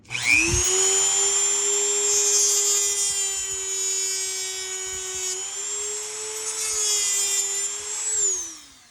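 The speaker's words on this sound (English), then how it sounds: "take either a Dremel or some other cutting tool and cut until you can get these wires out of this little joint" A Dremel rotary tool cuts through the joint of a 13th Doctor sonic screwdriver to free its wires, giving a loud, close, steady high-pitched whine that holds for about eight seconds and shifts slightly in pitch as the bit loads and releases.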